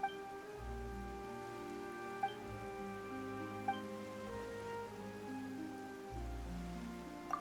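Sudden rain in the video game Genshin Impact, a steady soft patter of drops on surfaces running throughout, heard under sustained, swelling music tones.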